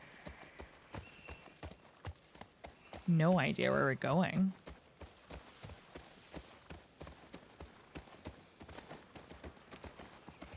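Steady clip-clop of galloping horse hooves through a forest in The Last of Us Part II runs throughout, with a loud horse whinny midway and someone talking briefly over it.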